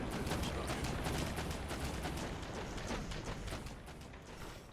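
Autocannon turrets on a ship in the space game ERA ONE firing continuously: a dense, steady stream of rapid mechanical shots, loud and unbroken throughout.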